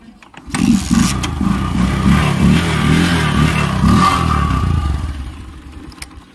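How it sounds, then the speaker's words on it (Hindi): A Bajaj Discover 100cc motorcycle engine catches after a kick start and settles into a loud, steady thumping idle with a throaty exhaust, fading slightly near the end. "एग्जॉस्ट मैं आपको सुना के दिखा देता हूँ ये देखिए ऑलमोस्ट इसको किक से स्टार्ट करना पड़ेगा"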